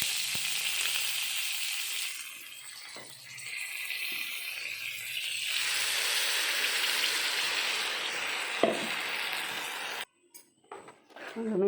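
Curry leaves and asafoetida sizzling in hot oil while tempering for a tomato chutney, a steady crackling fry that fades briefly then swells again before cutting off near the end, with faint clinks.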